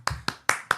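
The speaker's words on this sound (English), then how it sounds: "Anything over 8 gets applause from Tony Katz" Four sharp hand claps from a single person, spaced evenly and heard close and moderately loud, given as brief applause on a radio show after hearing of an 8.2 percent bourbon-barrel-aged beer.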